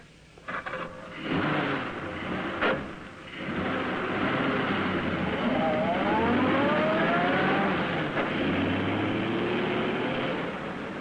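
An old car engine starting and pulling away, rising in pitch as it gathers speed, a steady drone that holds close throughout, with sharp knocks near the start.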